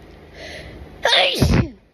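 One close, forceful sneeze from a person with a sneezing fit at night bursts out after a second of quiet breathing, then trails off into silence.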